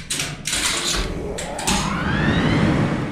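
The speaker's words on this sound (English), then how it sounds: "Schindler seemed to like using motors for everything, including this unique motorized brake release." A Schindler lift's motorized brake release runs in a machine room, a loud mechanical whir with a rising motor whine that builds steadily over a low rumble and a few clunks.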